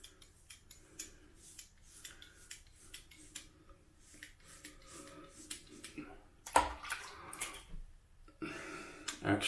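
A Leaf Razor shaves across the grain of a seven-day beard, giving a close series of quiet, scratchy rasping strokes in an irregular rhythm, growing louder toward the end.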